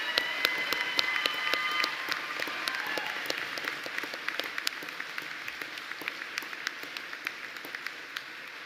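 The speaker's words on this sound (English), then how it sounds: "Everyone, please join me once again in applauding our graduates." An audience at a commencement ceremony applauds the graduates, a steady patter of many hands clapping at moderate distance with a few sharper individual claps standing out, continuing evenly to the end.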